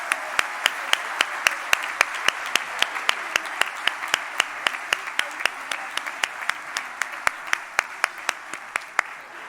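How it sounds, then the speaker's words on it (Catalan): Audience applause for the choir soloists at a Sant Esteve Christmas concert by a municipal music school's choirs, a steady crowd clapping wash with one sharp, regular clap standing out close by throughout. "Els fem un aplaudiment molt fort per tots els solistes."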